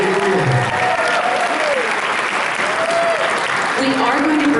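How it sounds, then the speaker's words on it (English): Steady, dense applause fills the hall at a Miss Vietnam DC pageant, loud and continuous throughout, with cheering voices rising above the clapping. "So let's give her a round of applause."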